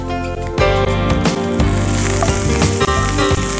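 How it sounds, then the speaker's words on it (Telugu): Ridge gourd with green chillies fries hard in a pan, giving a loud, dense, continuous sizzle with occasional stirring scrapes throughout. "ఇది బాగా వేగుతోంది"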